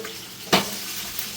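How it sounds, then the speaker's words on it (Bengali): Steady hissing sizzle of fish frying in hot oil, with one brief louder crackle and clatter partway through. "একদিকে মাছ ভাজা হচ্ছে"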